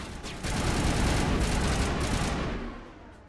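Enemy gunfire aimed at the player in the sci-fi shooter Mass Effect: a dense, sustained barrage of rapid shots that swells after a moment, roars steadily, then tails off toward the end.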